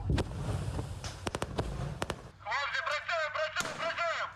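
Explosions and sharp blasts during a military beach landing exercise with boats putting troops ashore, several loud close bangs in the first half, then a dense crackling rumble of continued fire.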